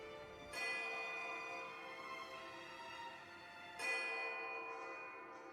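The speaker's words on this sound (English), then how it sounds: "A small silver bell appears just inches from your fingertips. You reach for it, straining to still its interminable ringing." Small silver bell ringing in the video game Pillars of Eternity II: Deadfire, two clear sustained strikes with long shimmering resonant decay, the second ring starting about three seconds after the first, with no other sounds.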